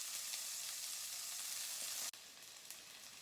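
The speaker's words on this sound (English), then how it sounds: "now I have our zucchini in the pan, and I'm going to do the same thing" Zucchini sears in oil in a frying pan with a dense, hissing sizzle that runs continuously, briefly cut by a sharp click partway through, then carries on slightly quieter, with no voices.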